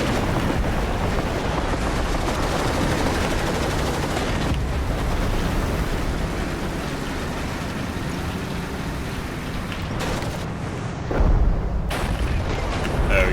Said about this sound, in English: Put a round right into the side of the hull.